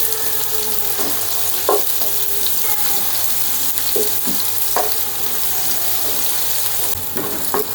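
Chopped onion frying in ghee and oil until golden for a cauliflower korma, a loud continuous close sizzle with occasional clinks and scrapes of stirring throughout.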